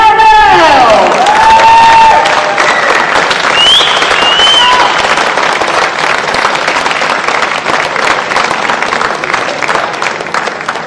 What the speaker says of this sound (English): please give a huge round of applause to the winner of the 2025 SL Green US Men's Championships